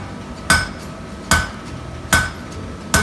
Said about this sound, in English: Doing what's called a half-face hammer blow. It just means I'm striking so the hammer is half on the anvil and half off.